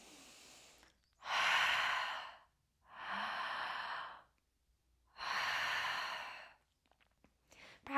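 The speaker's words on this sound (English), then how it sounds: "Try to create that same sensation as you fog the mirror on the exhale and also as you inhale" Yoga ujjayi breathing with a constricted throat, like fogging a mirror: four slow, breathy hissing breaths, each lasting about a second, close and soft, with short silences between.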